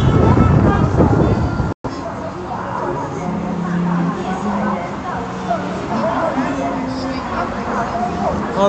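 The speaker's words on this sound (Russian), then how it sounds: "Вот ветер поднялся." Gusty wind sweeps along a shopping street in Hunchun, China, a steady broadband roar that buffets the microphone throughout with a brief dropout early on. Faint voices and street bustle sit underneath.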